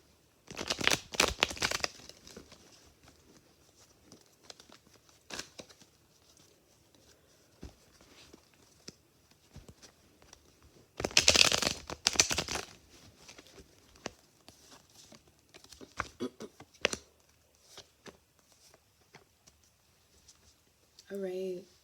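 Tarot cards are shuffled in short bursts of riffling and slapping, two louder flurries near the start and middle with scattered soft clicks and rustles between, close and fairly quiet.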